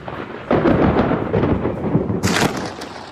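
Thunder rolling through a lightning storm over Miami, a loud, broad rumble that runs throughout and swells into a sharper, brighter crack near the end, with no voices.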